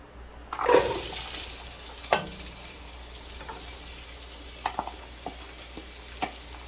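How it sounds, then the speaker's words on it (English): Onions frying on low heat in rendered beef fat and being stirred, with a soft steady sizzle and occasional scraping stir strokes in a close, quiet kitchen. "So we're going to cook the onions for about an hour or so, and you want to do this in low heat"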